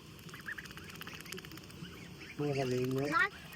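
Ducks on a Bangladeshi farm, with soft background quacking followed by one loud, close, drawn-out quack call lasting about a second.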